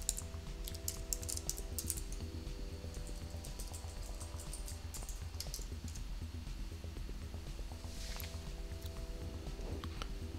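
Typing a song title into a search field on a computer keyboard, with quick, steady key clicks running throughout, close up and fairly even against a low background hum.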